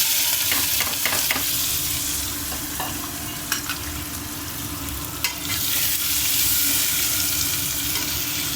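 Onions, green chillies, fennel seeds and cumin fry in a pan for mutton curry, producing a steady dense sizzle with scattered stirring clicks and scrapes, and no talking.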